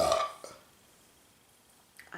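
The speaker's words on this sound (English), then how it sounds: "Oh, I've never burped so much or so loud." A woman lets out one loud, close burp at the start, followed by near silence and a faint stir at the end.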